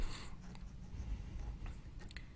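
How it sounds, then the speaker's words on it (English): Pencil scratching and sketching across a carved birch wood Santa face decoration, a close, quiet, steady rasp of graphite on wood with small strokes and pauses, no voices. "And then I will pencil in where the eyes go."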